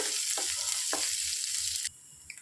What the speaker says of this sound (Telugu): ఉల్లిపాయలు బాగా వేగేదాకా వేయించుకోవాలి